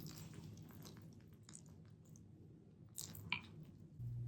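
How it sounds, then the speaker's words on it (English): Bubbly sourdough starter is stirred in a container, giving soft, sticky squelches and wet smacking sounds up close, with a slightly sharper scrape near the end. "as I'm mixing it, those bubbles are still forming"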